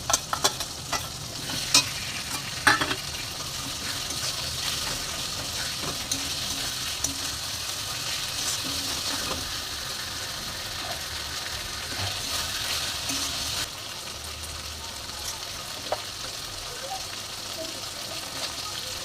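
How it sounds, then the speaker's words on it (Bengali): Onion, chili and ginger-garlic paste fry in a pan for a spicy chicken skin dish, giving a continuous loud sizzle with occasional sharp spoon clicks and stirring scrapes. "এটাকে লাল লাল করে ভেজে নেব।"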